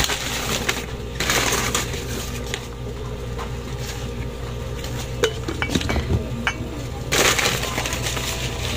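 Glasses are handled and set down, giving scattered clinks and clatter of dishware and cutlery, with a few sharper knocks near the middle, in an indoor kitchen setting with no talking.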